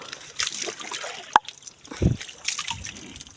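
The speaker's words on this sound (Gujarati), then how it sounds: "હવે આપણી જાફરાબાદીનો વારો આવી ગયો છે પાણી પવાનો અને નવરાવાનો" Water splashes and sloshes in short bursts while a Jafarabadi buffalo is given water and bathed, with a sharp click and a low thud between the wet spatters.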